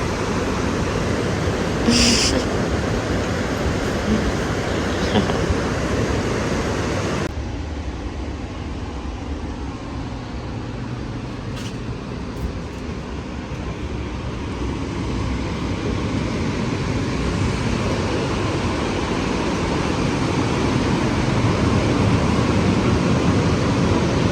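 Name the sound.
ocean waves at a surf lodge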